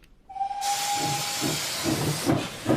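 A steam train hisses loudly as a sound effect in an audio drama, a sharp burst of steam after a thin whistle tone, with chuffing puffs pulsing beneath the hiss.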